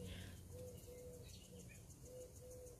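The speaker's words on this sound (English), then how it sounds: "Can you hear that bird cooing?" A bird cooing softly in the distance, a few low hooting notes in a repeating pattern over quiet outdoor background noise.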